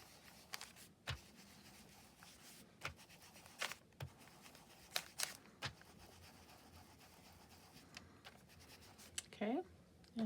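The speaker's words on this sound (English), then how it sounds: "I want to just kind of bring some ink to the graph paper itself." Inking pen scratching across graph paper in short, close strokes with small taps and pauses between, fairly quiet, with a brief soft voice near the end.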